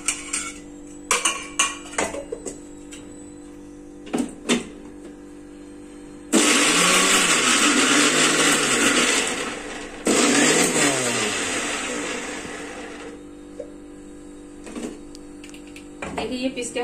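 Garlic, two green chilies and onion whir in a kitchen blender for tadka masala, running loud for about seven seconds in two bursts with a brief pause, after some clinking of utensils.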